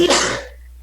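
A single sharp, close sneeze bursts out loudly and quickly trails off, heard alone during a tabletop role-playing game session.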